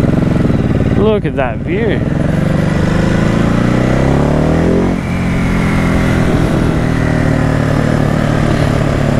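A strong motorcycle roars close by on a road ride, with engine revs rising and falling over steady wind rush while a rider speaks briefly.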